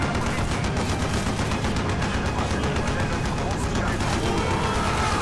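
Sustained gunfire in Call of Duty: Black Ops, a dense, loud, continuous barrage of rapid shots with a heavy battle din throughout, with voices mixed in underneath.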